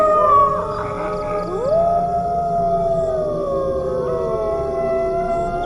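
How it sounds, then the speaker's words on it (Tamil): A jackal howls in a long, wavering, rising and falling cry, loud and sustained over a noisy rumbling background, used as an eerie sound effect in a spoken story, with no talking. "அவளுக்கு எங்கேயோ நரி ஊழையிடுற மாதிரி"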